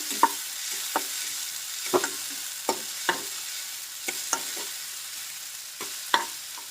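Green chillies and onions fry in a pan for rava dosa, making a continuous sizzle broken by sharp, regular scrapes of a spatula stirring every second or so, fairly close.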